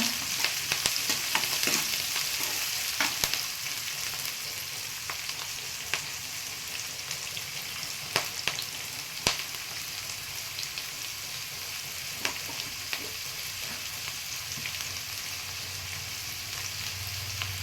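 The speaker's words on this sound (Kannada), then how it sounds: "ಈರುಳ್ಳಿ, ಕರಿಬೇವಿನ ಸೊಪ್ಪು, ಸ್ವಲ್ಪ ಕೆಂಪಾಗಷ್ಟು ಉಟ್ಕೊಳ್ಳೋಣ." Onions and curry leaves fry in a pan for a Kannada pumpkin palya, giving a steady close sizzle with scattered sharp crackles and light stirring clicks throughout, with no talking.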